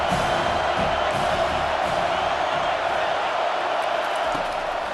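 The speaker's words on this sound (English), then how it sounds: "Here comes this home crowd as the defense tries to get off the field on 3rd down" A home stadium crowd roars in EA Sports College Football 25 as the defense faces third down, a loud, sustained wash of cheering that stays steady throughout under commentary.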